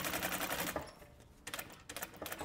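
A sewing machine stitches a zipper in quick rattling bursts, running fast, pausing briefly, then starting again in short runs.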